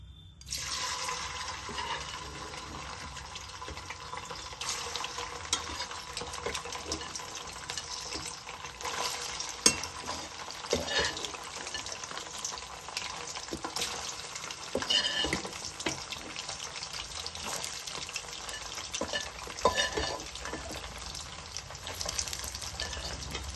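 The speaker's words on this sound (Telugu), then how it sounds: "ఆయిల్ అయితే వేడయింది మనం చికెన్ వేసుకుందాం ఇప్పుడు చికెన్ వేపుకోవాలి" Chicken pieces fry in hot peanut oil over a medium flame for a Telugu-style chicken pickle, giving a dense, continuous sizzle with occasional stirring clatters and pops, steady and close.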